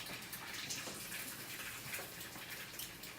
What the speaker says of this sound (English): what I'm going to do is wash my hands